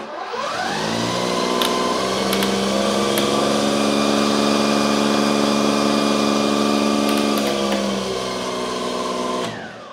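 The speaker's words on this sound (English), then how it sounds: "And then we'll go through the speed ranges of the auger." A Kress 60V battery snow blower's auger spins up and runs through its speed settings, a loud close electric whine that holds steady with tonal hum before winding down at the end.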